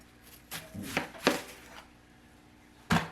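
A knife chops a yellow onion on a board: four quick, crisp strokes close by, a brief pause, then one more firm chop.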